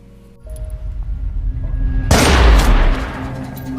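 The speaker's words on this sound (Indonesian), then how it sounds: "Tapi saat Iqbal berbalik, ia menembaki Iqbal hingga wafat." Gunshots in a tense film scene from Jolly LLB 2, a deep booming blast rising out of a low rumbling score, loud and close, with no talking.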